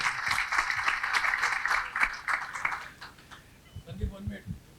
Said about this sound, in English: So big round of applause for Sandeep